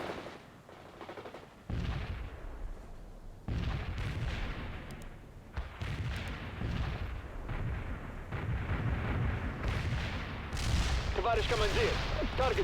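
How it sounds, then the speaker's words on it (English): Mortar strike and artillery fire in the war game World in Conflict: repeated heavy booms and rumbling blasts build into a loud, continuous barrage, with voices talking over the battle noise. "Mortar strike requested. Firing away."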